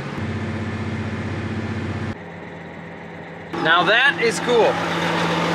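A farm tractor's engine drones steadily as it pulls a variable-rate planting implement in the field. A low, tonal hum fills the first couple of seconds, then drops to a quieter idle while someone speaks over it.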